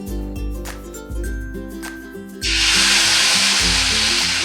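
Rice chilla batter hits a hot oiled tawa halfway through, and a loud, dense, steady sizzle takes over from the background music and carries on close by.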